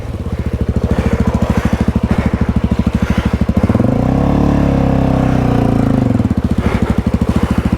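An adventure motorcycle engine drones steadily and loudly up close while riding in Australia's Snowy Mountains, its pitch rising and holding during a sustained acceleration in the middle before easing back, with no talking.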